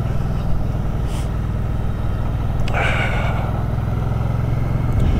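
A car approaching from the opposite direction on an icy road during a motorcycle ride, its brief whoosh rising over the constant loud drone of the riding bike's engine and wind.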